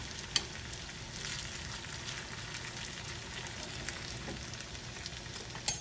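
A potato frittata fries in a pan with a soft, steady sizzle and crackle, fairly quiet, with a couple of sharp clicks at the start and end.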